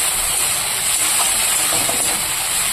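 Broad beans frying in a home kitchen pan give a steady, dense sizzling hiss that runs unbroken throughout, close and fairly loud, with faint crackles scattered through it.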